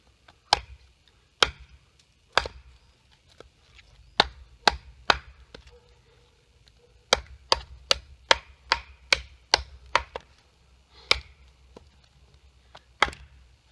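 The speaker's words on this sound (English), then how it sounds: "I guess I'll try to chop on it right here." A Ka-Bar Becker BK7 knife chops into red oak hardwood. Sharp, isolated strikes land close and clear, sparse at first and then in a quicker, steady run, with quiet gaps between them.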